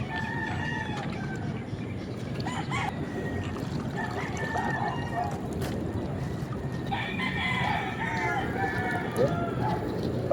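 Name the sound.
rooster (broodcock) crowing in backyard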